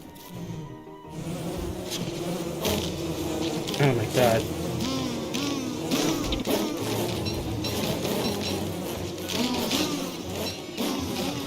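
Swarming bees summoned as an ability in Wendy Walter Wortox's skill tree in a video game, a continuous buzzing drone with layered wingbeat tones, while someone speaks excitedly over it.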